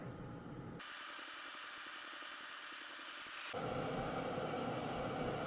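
A Bella electric kettle powered from a Bluetti AC180 heats water towards a boil, giving a steady broadband hiss and rumble that grows slightly louder partway through, with no talking.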